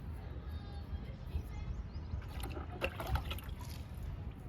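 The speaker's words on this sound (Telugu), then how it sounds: "ఇంకా కంపోస్ట్కి వాటర్ ఇచ్చేద్దాము." Water poured over a heap of homemade compost made from mixed materials, producing a close, continuous splashing trickle of moderate loudness, with faint voices in the background.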